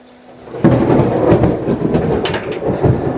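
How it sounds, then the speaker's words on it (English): Deep rolling thunder rumbles in loud and close after a brief quiet start, sustaining a broad, grumbling roar with a few sharper cracks through the rest, heard outdoors near a shop doing rust repair on a 1964 Chevy C10 pickup. "Yeah, that's thunder, all right."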